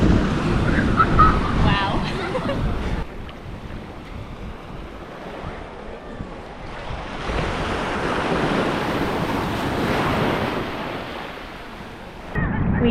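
Ocean waves wash onto Cinnamon Bay Beach on St. John in the US Virgin Islands, a continuous rushing surf that swells and fades, with gusts of wind buffeting the microphone and a faint voice now and then.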